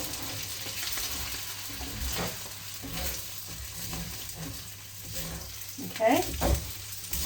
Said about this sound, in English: Scrape up those pieces that are sticking